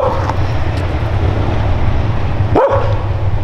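A stray dog in a front yard gives one short bark about two and a half seconds in, over a steady low rumble of outdoor background noise.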